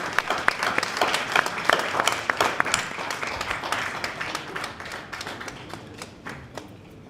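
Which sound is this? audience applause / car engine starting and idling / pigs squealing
audience applause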